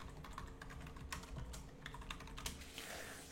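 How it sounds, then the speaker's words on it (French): Typing a command on a computer keyboard, a steady run of quick, light key clicks with a few louder taps, heard alone at low level. "Je vais taper gp update"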